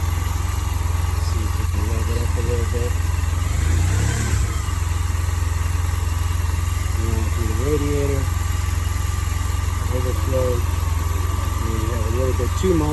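A 2009 Honda Silverwing scooter engine runs steadily at idle and rises briefly in a rev before settling back, close and continuous, with a voice talking over it at intervals.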